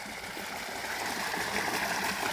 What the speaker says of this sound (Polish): Woda tutaj jak bąbelki, ten ładnie się dotlenia.